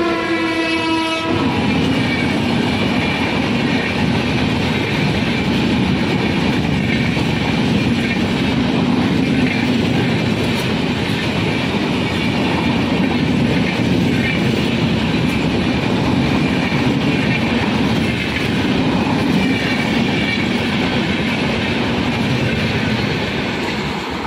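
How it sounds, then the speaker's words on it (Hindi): The Malwa Express 12920 races through Chaheru railway station at speed, opening with a short horn blast before a loud, sustained rumble and rhythmic wheel clatter of passing coaches for the whole stretch, with no talking. "दोस्तों देख सकते हैं कितनी रफ्तार में मालवा एक्सप्रेस जो कि चेड़ू रेलवे स्टेशन को क्रॉस कर रही है।"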